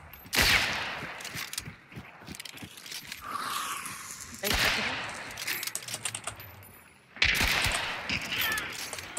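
Gunfire in the video game Hunt: Showdown, with three loud, sharp shots at roughly two- to three-second intervals, each followed by a reverberant tail, while players talk over it between blasts.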